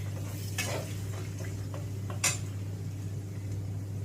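Four eggs being whisked with salt and onion in a bowl: a few scattered utensil taps and scrapes over a steady low hum, with no voices.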